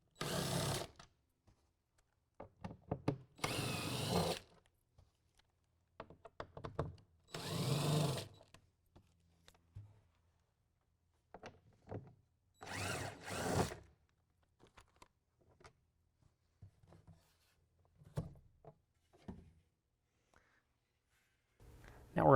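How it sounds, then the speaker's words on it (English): A power drill with a T30 Torx bit backs bolts out of a 2016 Toyota Tacoma bed during a tonneau cover install. Several short, close whirring bursts are separated by quiet gaps. "We're going to use a T30 Torx bit to take out the bolts."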